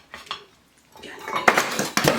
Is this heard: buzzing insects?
no